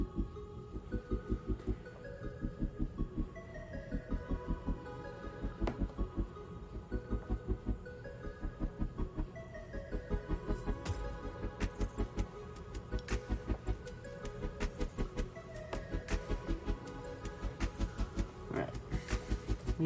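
A sewing machine runs steadily while stitching the collar of a Jedi outer tunic, giving a fast, even mechanical chatter with short pauses and restarts, close and continuous.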